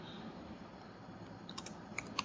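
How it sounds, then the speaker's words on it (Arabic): Faint keystrokes tap on a computer keyboard during an HTML coding lesson, a few quiet clicks that build into slightly sharper taps near the end over low background hiss. "ليكن مثلا هنكتب بيتر"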